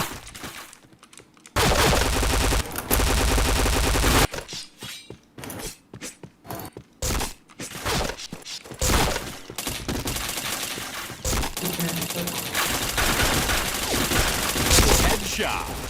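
Shooter video game gunfire, dense broadband bursts of rapid shots with brief gaps, loud and close, starting after a quieter moment and continuing to the end with little talk.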